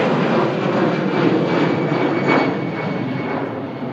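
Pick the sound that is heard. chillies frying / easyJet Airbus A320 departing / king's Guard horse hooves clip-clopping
easyJet Airbus A320 departing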